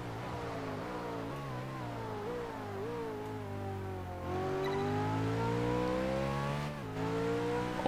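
A sports car engine in Test Drive Unlimited 2 revs and climbs through gears in a steady, continuous roar near 300 km/h, pitch rising and dipping with acceleration, loud and close with no talking.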